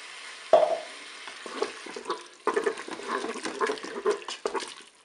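About 200 ml of water goes into a Cookeo multicooker pot holding beef and curry, with an abrupt splash followed by uneven bursts of pouring, bubbling and stirring close by.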